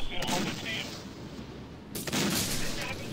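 Explosions and gunfire from the war strategy video game Syrian Warfare, with two heavy blasts, one near the start and one about two seconds in, over a steady rumble of battle noise.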